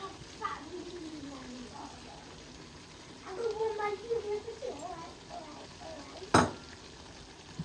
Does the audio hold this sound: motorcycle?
no